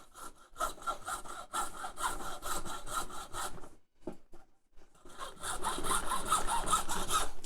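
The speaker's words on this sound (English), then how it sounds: "Sometimes it just feels good to hacksaw something or someone." A hacksaw cuts through weak plastic in rapid rasping back-and-forth strokes, close and loud, with a brief pause midway before the steady sawing resumes.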